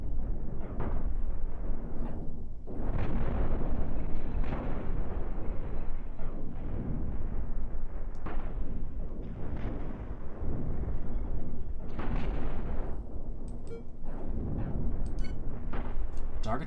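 Spaceship weapons in the Cosmoteer space game fire in repeated heavy blasts and booming bursts, several spaced volleys over a low rumbling background, no talk.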